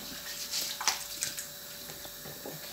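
Goat meat being washed and rubbed by hand in a bowl of water, soft splashes and sloshing in a few quick bursts, close and fairly quiet.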